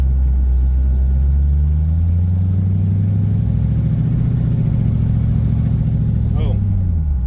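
A car fitted with a Holley Sniper fuel pump idling close by, a loud steady low engine rumble with a rising then easing drone, and a brief higher whirring sound near the end.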